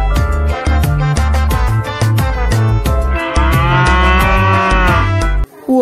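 Cow in Jurassic World Evolution 2, or a cow-like game animal: loud, close, drawn-out lowing calls repeating over rhythmic, musical-sounding tones, with a short break near the end and no speech.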